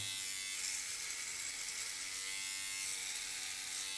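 A continuous high-pitched electric buzz of an MLT trimmer-shaver, a copy of the Philips OneBlade, running steadily while shaving a neck, fairly quiet and unbroken, with no speech.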